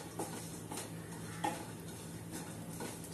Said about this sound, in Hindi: हम उसमें घी डाल के जो हमारा रवा जिसे सूजी कहते हैं तो हम उसे भून लेंगे अच्छे से गोल्डन ब्राउन होने तक